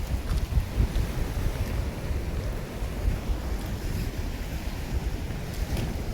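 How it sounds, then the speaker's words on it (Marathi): Sea waves wash over a rocky beach on the Konkan coast in a continuous low roar, with heavy wind buffeting the microphone throughout and no talking. "रॉकी बीच आहे. दगडांवरती चालायचं."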